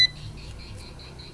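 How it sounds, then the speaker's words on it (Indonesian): An avometer multimeter gives a continuity beep as its probes touch while checking motorcycle wiring, a quick train of short, evenly spaced high beeps, faint and close, with no talk. "Kita menggunakan avometer kayak gini bosku, kalau dia nyentuh akan bunyi"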